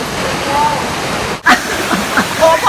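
Hubo Falls in Tupi, South Cotabato, Philippines, pours down as a loud, steady rush of water close by, with voices talking over it.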